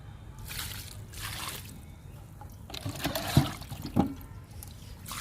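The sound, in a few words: pouring liquid fertilizer onto chilli plants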